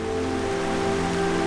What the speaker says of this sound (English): I am absolutely drenched. It's pouring down with rain